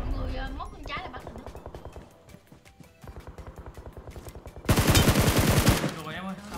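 Rapid automatic gunfire rattles in PUBG Mobile, bursts of fast shots spread across the moment and swelling into a loud, dense volley near the end, with a voice talking over parts of it.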